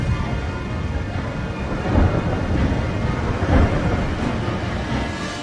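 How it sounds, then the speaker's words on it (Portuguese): Rain and thunder sound effect: a steady wash of heavy rain with low, rolling thunder rumbles swelling and fading, dense and moderately loud. "E caiu chuva sobre a terra durante 40 dias e 40 noites."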